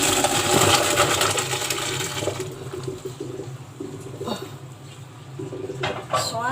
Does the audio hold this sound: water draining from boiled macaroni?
yes